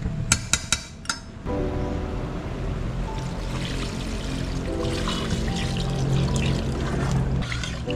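Water pours steadily into a pan of half-cooked cobia fish with simple seasoning, a continuous close splashing stream lasting several seconds after a few sharp clinks of the pot at the start.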